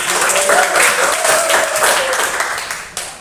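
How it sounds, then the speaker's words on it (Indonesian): A classroom of students clapping for a presenting student group, steady close applause filling the whole stretch with faint voices mixed in. "Tepuk tangan untuk kelompok Anggrek"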